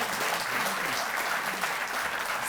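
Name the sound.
audience applause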